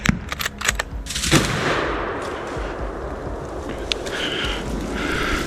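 Rifles fire during a wild boar hunt in a forest: a quick burst of sharp close shots in the first second, then a long fading rumble and wind-like wash.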